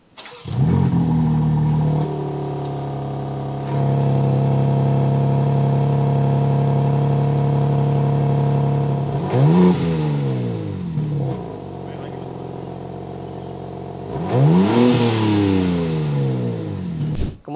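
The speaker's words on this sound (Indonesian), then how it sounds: "Kalau cold start seperti ini suaranya." A 2025 BMW M3 Competition Touring fires up from cold, its exhaust catching with a loud starting flare, then settling into a steady, elevated idle drone, followed by two sharp revving blips near the end.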